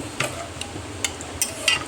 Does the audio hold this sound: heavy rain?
no